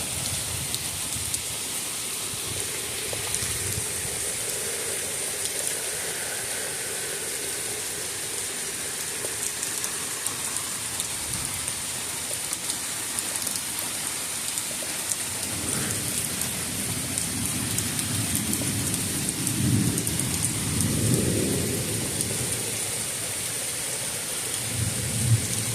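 Heavy rain pours steadily through a summer thunderstorm, with a constant dense patter and deep rolling thunder rumbling in the distance, swelling louder near the end.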